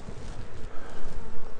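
Honey bees buzz around hive frames, a close, dense, wavering drone of many wings that swells and dips over a moment.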